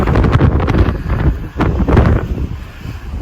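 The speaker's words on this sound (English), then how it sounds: "it is a really, really windy day" Strong gusts of wind buffet the microphone, a loud, ragged roar that surges and dips in bursts.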